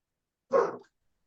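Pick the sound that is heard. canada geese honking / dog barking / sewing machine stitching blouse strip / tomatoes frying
dog barking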